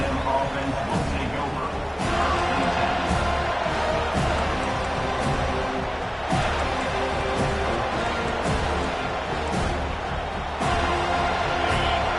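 A football stadium crowd roars as a steady, loud wall of noise, with a commentator talking over it.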